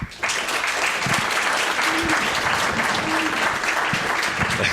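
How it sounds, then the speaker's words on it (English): A crowd applauds steadily at a public presentation in Cedar Rapids, dense clapping holding at an even, fairly loud level for several seconds. "I'd love to hear a round of applause"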